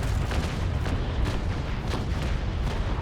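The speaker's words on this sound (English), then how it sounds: "12, carronade, fire" Carronade cannons fire in a Naval Action fleet battle, a rolling series of dull booms and thuds overlapping under heavy low rumble.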